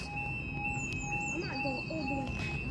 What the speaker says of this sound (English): Apologies on all the beeping. That is this ticket machine that has gone blank